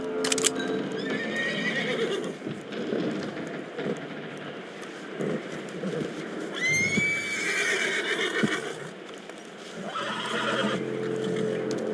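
A horse in the Red Dead Redemption 2 video game lets out several loud, shrill whinnies and neighs, spaced through the scene, with hoof clip-clops and shuffling movement between them and no speech.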